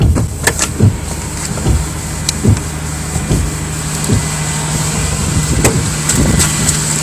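Engine of a 2000 Mazda MPV idling slightly high after a cold start, a steady low hum running throughout, with windshield wipers thumping at regular intervals over it at close range.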